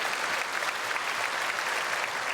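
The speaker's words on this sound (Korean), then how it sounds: "우리 크게 박수로 환영하겠습니다" A church congregation at a Sunday service claps together in welcome, a steady, dense wash of applause from many hands filling the room throughout.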